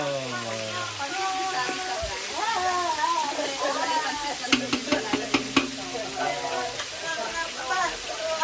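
Pancit guisado stir-fried in a pan, a soft sizzle and scraping stirs running under steady talk and a cat's meows, with a quick cluster of sharp utensil taps midway.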